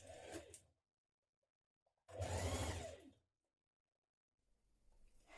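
A sewing machine stitches a blouse underarm seam in two short bursts of whirring, with a brief stop between them and a fainter start at the end.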